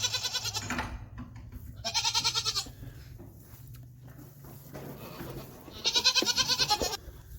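Goats bleat in a homestead pasture in three loud, wavering bursts near the start, middle and end, with quieter farm ambience between calls.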